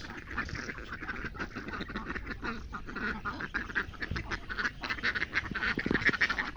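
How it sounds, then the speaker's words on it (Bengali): A flock of ducks, one of them white, quacking on a village road in the morning, a dense continuous chorus of overlapping calls growing louder toward the end. "আসলে খুব সুন্দর লাগছে হাঁসগুলো"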